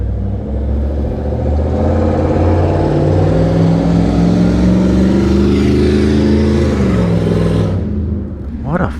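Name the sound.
motorcycle engine running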